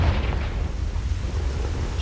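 A Confringo fire spell blast in the wizarding game Hogwarts Legacy bursts loud and close as a deep, rumbling explosion, sustained for about two seconds.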